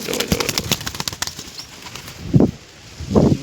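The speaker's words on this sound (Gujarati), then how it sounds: "નીચે આવે છે બધા કબૂતર ધીરે ધીરે." Several quick wing flaps clatter close by, then two soft, low coos follow after a short pause, with no voices.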